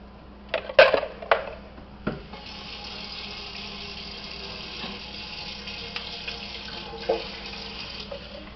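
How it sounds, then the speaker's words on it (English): Homemade liquid laundry detergent is poured into jars, a steady watery pour running for several seconds after a few sharp knocks and clinks at the start, with light splashing and no talk. "pour that into your jars."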